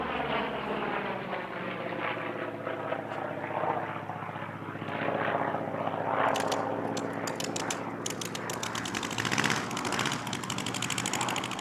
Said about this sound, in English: It's the F8F-2P Bearcat of the Fighter Collection.